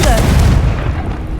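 A Confringo blasting spell fires during a boss fight in Hogwarts Legacy. A single deep, booming explosion sounds loud and close, then rumbles away.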